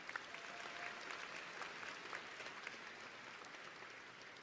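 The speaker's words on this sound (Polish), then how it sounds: "Wielkie brawa." Audience applause at a Confederation party program convention: steady, dense clapping from a large crowd, faint and distant, continuing without break.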